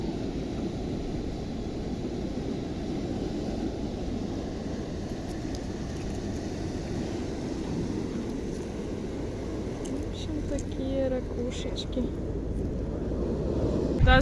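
Wind blows steadily outdoors, a dense low rumble of gusts buffeting the microphone that holds for the whole stretch and swells slightly near the end.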